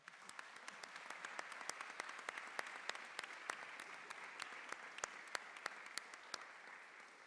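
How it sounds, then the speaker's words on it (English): Applause from an audience at a university honors ceremony, a steady dense wash of many hands with sharper individual claps popping through, fairly distant and even throughout. "I think that's worth a round of applause."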